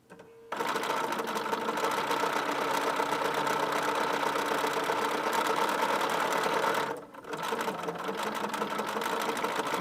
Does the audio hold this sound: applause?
no